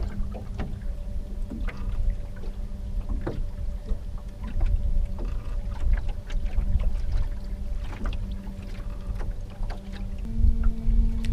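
A boat trolls slowly on a lake while fishing for pike in autumn, its low engine drone steady throughout with water lapping against the hull up close and no talk.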